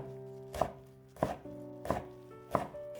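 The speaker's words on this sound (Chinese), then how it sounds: "放在案板上给它切碎，尽量切均匀一些" Chopping of cooked, unwashed Chinese toon leaves on a cutting board: four evenly spaced knife strikes land about every 0.65 seconds, close and crisp, over a steady low hum.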